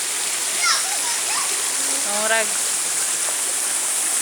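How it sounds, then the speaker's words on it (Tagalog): Bayog Waterfalls roars as a steady, dense rush of falling water through the whole stretch, with people talking over it. "Kanang kuan, Bayog Waterfalls charot."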